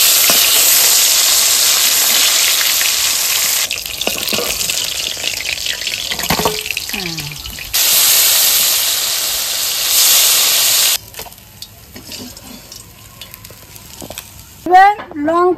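Katla fish sliding into hot mustard oil in a home kitchen, giving a loud, steady hiss and sizzle that breaks off and returns in bursts, with clinks of utensils and a quieter stretch near the end.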